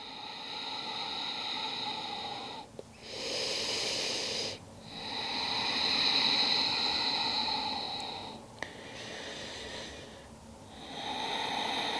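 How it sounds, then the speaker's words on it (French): Slow, deep breathing during a yoga stretch: long airy inhales and exhales, each lasting a few seconds with short gaps between, close and steady with no talking. "5 respirations ici."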